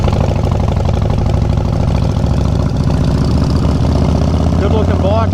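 A Harley-Davidson motorcycle engine idles nearby with a steady, loud, deep rumble that runs throughout, while people talk over it.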